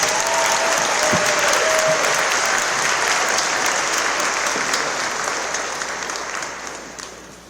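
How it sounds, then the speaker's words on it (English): A graduation audience at a middle/high school ceremony applauds steadily, a dense sustained clapping that fills the hall before tapering off near the end. "Another round of applause."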